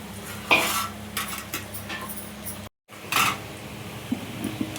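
Fried pieces turned and tossed in a pan, giving a few sharp scrapes and clinks of utensil on metal over a low steady background hum, with a short gap midway.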